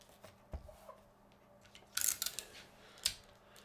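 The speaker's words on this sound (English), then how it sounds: "So let me just tape that down." Strips of tape pulled and pressed down onto paper at a craft table, a few short crackly rips and taps heard up close, alone without talk.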